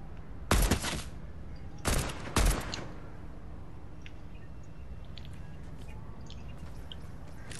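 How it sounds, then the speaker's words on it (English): Three sharp bursts of gunfire ring out, one alone then a quick pair, over a low steady background hum. "You guys getting shot at or something? I hear shots."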